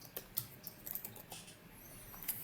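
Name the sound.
typing a file name on a computer keyboard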